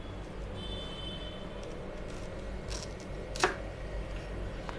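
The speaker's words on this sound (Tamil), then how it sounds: "இந்த 2 எட்ஜையும் நம்ம வந்து நல்லா நறுக்கிக்கலாம்" A few quiet knife cuts through the ends of a raw banana on a board over low background hum, with one sharper chop standing out.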